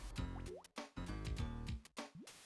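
Water dripping in the Riven video game: a handful of distinct, close plopping drips with resonant tails, spaced irregularly over quiet ambience.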